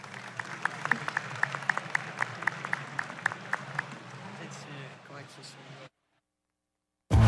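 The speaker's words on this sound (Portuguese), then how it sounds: "Aplausos para os nossos convidados aqui." An audience at a gamescom latam stage panel gives applause to the guests, a dense patter of clapping with sharp individual claps that thins out and stops, followed by a brief silence and a sudden loud sound.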